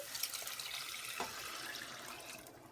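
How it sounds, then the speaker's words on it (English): Three cups of water poured into a pot of coconut rice in a home kitchen, a faint, steady splashing trickle that runs evenly throughout without talk. "we're going to add 3 cups of water"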